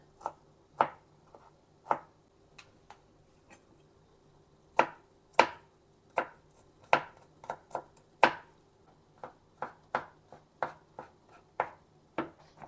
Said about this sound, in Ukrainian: Чеснок теж треба так надрібно нарізати.